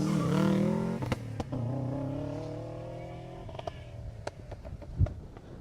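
A rally car at the 2018 Jersey Rally roars through a stage, its engine note rising and falling through gear changes as it passes and fades, with a few sharp clatters near the end.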